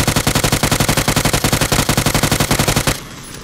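Rapid automatic gunfire from the PUBG video game rattles in a fast, even burst of about thirty shots, loud and close, then cuts off abruptly into a faint ringing tail.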